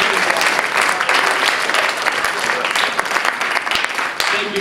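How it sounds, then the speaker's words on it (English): Audience applause for a volunteer at a magic and mentalism show, a dense, steady wash of clapping from a full room, loud and sustained throughout with no break. "Let's give him a good round of applause."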